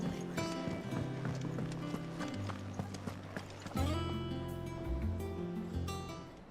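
Horse hooves clip-clop in a quick, steady rhythm in the video game Final Fantasy 16, over a layer of background music, moderately loud throughout.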